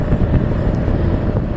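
Steady low rumbling wind buffeting on a motorcycle ride, picked up by a neck-mounted DJI Pocket 2 with a furry windscreen; a dense, continuous roar with no talk.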